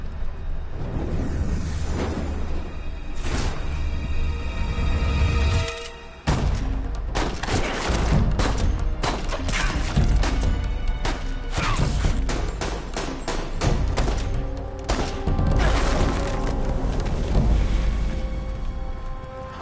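Rapid bursts of gunfire in Metal Gear Solid 3, a loud string of sharp shots and thumping impacts over game music and effects, with one brief drop to near quiet partway through.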